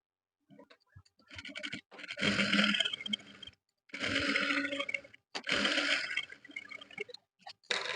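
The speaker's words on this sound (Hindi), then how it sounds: "अब फिनिशिंग देने के लिए एक सिलाई हम किनारे के ऊपर भी लगा लेंगे ऊपर की तरफ इस तरह से" A sewing machine stitches along the edge of a trouser waistband in several short bursts separated by brief pauses, close and fairly quiet, with no voices.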